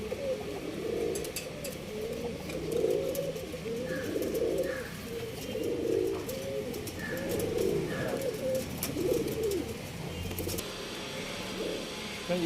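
Giribaz pigeons coo repeatedly in soft rolling phrases, a steady overlapping series of low throaty calls at close range, with faint background noise and no talk.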